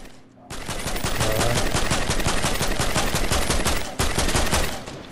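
Rapid automatic gunfire in the video game Fortnite rattles loudly and continuously after a brief quiet start, with a short break near the end before another burst.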